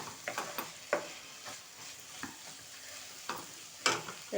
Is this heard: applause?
no